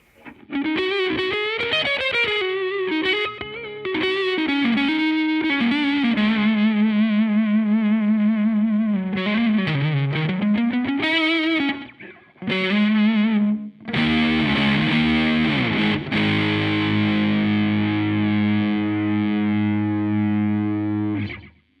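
A distorted electric guitar on the neck pickup of an AXL Badwater semi-hollow AE-820 plays bending, singing lead lines with a warm, rounded tone, sustaining long notes before chunkier chords near the end.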